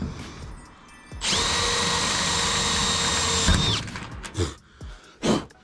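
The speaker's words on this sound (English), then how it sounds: "Not only is it a reverse bit, but it's a blunt reverse bit." A power drill with a blunt reverse bit whines steadily for a couple of seconds, grinding against wood at a constant pitch while fitting bonnet pins, then stops, leaving a few short knocks and handling sounds.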